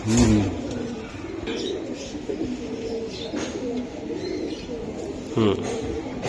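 Giribaj high-flyer pigeons coo repeatedly close by, low throaty calls rising and falling steadily over a continuous hum of background noise.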